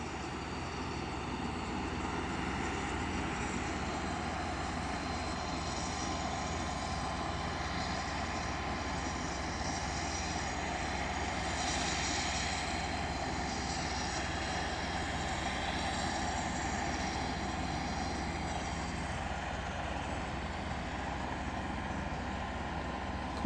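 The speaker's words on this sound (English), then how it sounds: "Cessna 172 in shot." Cessna 172 light aircraft at Aberdeen Airport, a steady continuous engine drone with a broad hum, moderately loud and unbroken throughout, no voices.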